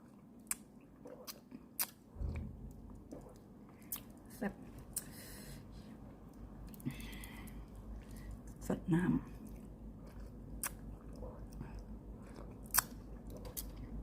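Chewing and biting while eating tom yum instant noodles with a plastic spoon at a workplace lunch, soft close mouth sounds and small crunches scattered through a quiet room with faint background noise.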